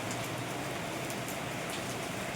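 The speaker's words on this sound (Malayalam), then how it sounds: "അടിപൊളി മഴയാണ്" Heavy rain pours down steadily outdoors, an unbroken close hiss of drops hitting surfaces at an even level, with no voices.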